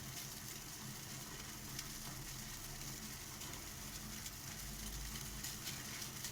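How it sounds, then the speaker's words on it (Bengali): Rosogolla balls simmering in a covered pot of sugar syrup, a faint, steady bubbling hiss with a low rumble underneath, continuous and unbroken. "রসগোল্লাগুলো এরকম ছেড়ে দিয়ে 5 মিনিট সেদ্ধ করে নিতে হবে"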